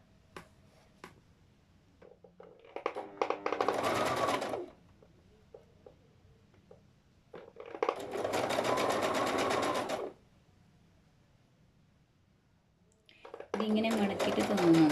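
Sewing machine stitching a fabric hem folded twice over, running in three loud bursts of a few seconds each with quiet pauses between, plus a few faint clicks.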